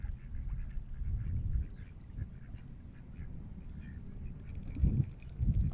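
Ducks quacking near a pond, a scattered run of calls over low outdoor rumble and background noise, with a couple of louder bursts near the end.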